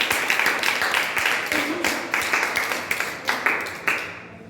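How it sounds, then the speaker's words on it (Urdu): A church congregation claps for Jesus Christ in a rhythmic, fairly loud burst of applause that continues steadily for several seconds. "ہم یسوع مسیح کے جلال کے لیے زوردار تالیاں بجائیں۔"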